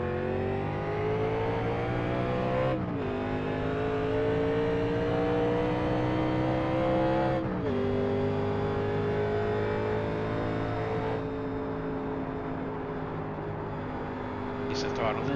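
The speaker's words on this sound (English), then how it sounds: "Ease the throttle into it, back into it, nice and smooth." A 1987 NASCAR stock car engine in the iRacing sim drones loud and steady at high revs on the Kentucky oval, pitch dipping briefly at a few throttle lifts before climbing back, with a voice talking over it.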